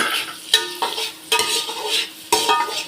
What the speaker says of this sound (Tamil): 2 வெங்காயம் நல்லா வதங்கட்டும்.